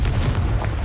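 The Confringo blasting spell in Hogwarts Legacy goes off as a single short, heavy boom, loud and deep, lasting under a second.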